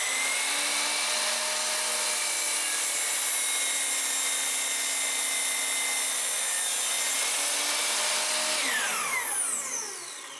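A saw blade cuts steadily through a wooden board, with a loud continuous whine and rasp that runs for about nine seconds, then winds down as the blade spins to a stop at the end.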